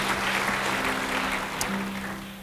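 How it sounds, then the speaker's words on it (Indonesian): A church congregation applauds in praise during a sermon, a steady wash of clapping with a sustained low hum beneath it, fading slightly toward the end. "Yang mau beri tepuk tangan buat Tuhan."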